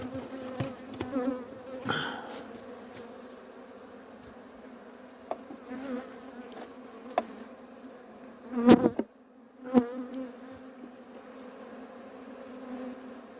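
Loud, close buzzing of a crowd of honey bees, a sustained hum broken by a few sharp knocks and thumps partway through.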